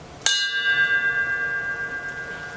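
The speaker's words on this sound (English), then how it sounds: "we will read aloud each name and perform a bell toll after each name" A single bell toll at a memorial tribute reading of names, one sharp strike followed by a long ringing tone that slowly fades with a wavering beat.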